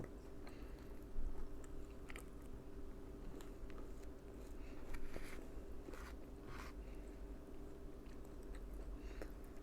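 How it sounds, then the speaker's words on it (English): Close, quiet chewing of dried moose meat jerky, slow repeated bites and moist mastication with occasional crunchy clicks over a low steady background hum, with no talk. "it's a lot of chewing because, I mean, it's pure protein, right?"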